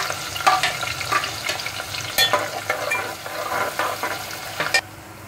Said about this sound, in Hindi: ये देखिए प्याज फ्राई हो रही है